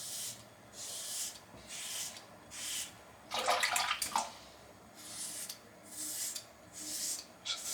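A Weck Sextoblade razor scraping through lathered head hair in short repeated strokes, close and soft with a raspy texture, over a quiet background of running water.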